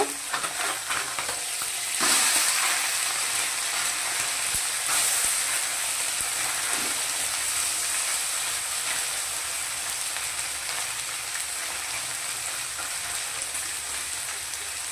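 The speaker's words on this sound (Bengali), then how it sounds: "মাছগুলো প্রায় ভাজা হয়ে গেছে, এখন আমি তুলে নিব।" Small mourala fish fry in oil in a pan, a loud, steady sizzle and crackle that runs unbroken throughout, with no voices over it.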